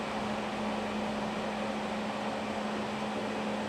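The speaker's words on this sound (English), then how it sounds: "It is still going down and down. So platform goes down in this machine." A GJ5058L machine's platform motors downward, giving a steady, continuous mechanical hum with a constant low tonal whine over broad fan-like noise, unchanging throughout and without talk.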